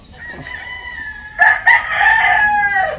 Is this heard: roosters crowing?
yes